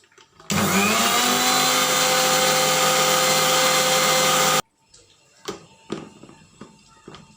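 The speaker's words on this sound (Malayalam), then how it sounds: "അപ്പോൾ റവ മിക്സിൻ്റെ ജാറിലേക്ക് അങ്ങോട്ട് ഇട്ട് കൊടുക്കുന്നുണ്ട്. ഇട്ട് കൊടുത്തിട്ട് നമുക്കത് നല്ലോണം ഒന്ന് പൊടിച്ചെടുക്കണം." A kitchen mixer grinder pulverising semolina (rava) in its jar runs loud and steady for about four seconds, then cuts off abruptly, followed by a few light knocks and handling clatters.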